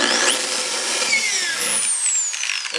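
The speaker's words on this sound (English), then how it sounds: "So we're going to drill a hole to make a spot for the jigsaw to start." A power drill whines at high speed as it bores an entry hole into wood, pitch sliding as the motor loads and eases, loud and close.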